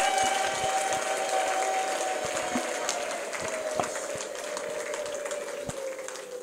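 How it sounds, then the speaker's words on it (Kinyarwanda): A church congregation applauds in steady, continuous clapping that fills the space at even loudness throughout, with a faint sustained tone running beneath it. "Mumukomere amashyi"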